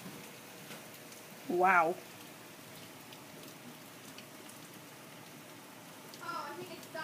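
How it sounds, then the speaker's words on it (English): Rain that has eased from a heavy downpour to a normal fall, a steady soft hiss throughout, with a short exclaimed word and a brief later voice over it. "Now it's just raining normally."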